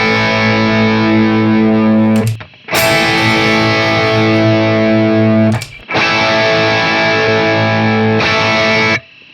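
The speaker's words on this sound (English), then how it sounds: "I'm gonna let a chord ring at first with the target device." Distorted electric guitar chords ring out through a Hotone Ampero II amp modeler, three long sustained strums each cut off abruptly with short gaps between them, loud and upfront without any voices.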